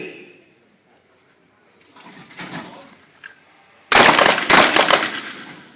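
At a self-defence shooting range, a rapid cluster of loud, sharp gunshots crack close by near the end, following quieter shuffling and movement.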